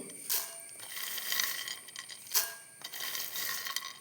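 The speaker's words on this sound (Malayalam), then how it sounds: "കടല ഈ പാത്രത്തിലേക്ക് ഇട്ട് കൊടുക്കാം" Roasted peanuts rattle and clatter as they pour into a vessel, with quick clicking bursts and a few sharper spills, close by and fairly quiet.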